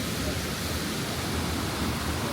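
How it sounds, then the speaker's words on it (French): Steady broadband roar of a waterfall dropping straight down into a pool on La Réunion, loud and close, a continuous rushing wash with no break. "Et là, il y a la cascade qui tombe direct en bas."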